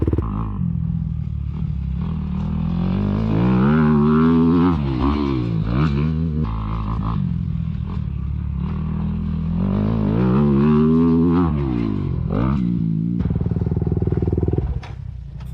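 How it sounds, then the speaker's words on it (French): A Honda motocross bike accelerates hard through its gears, with engine pitch repeatedly rising and falling in revving sweeps. It is loud and near, with rattle and clatter, and no talk is audible. "Cette moto tire fort."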